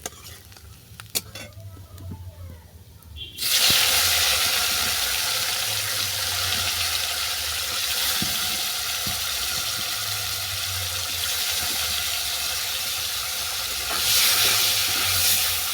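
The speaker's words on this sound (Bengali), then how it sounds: "এই তেলের মধ্যে করলাকে ভেজে নেব।" Bitter gourd frying in hot oil in a home kitchen pan: after a quiet start, a loud, steady sizzle and hiss bursts in and continues near and unbroken, swelling again toward the end, with no talking.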